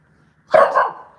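A dog gives a single loud, close bark, a sharp burst with a short trailing tail, heard alone after a quiet start.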